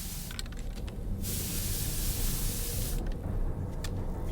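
Hair dye sprayed from a can in the video game Death Stranding 2: a sustained spray hiss of nearly two seconds, with faint clicks around it.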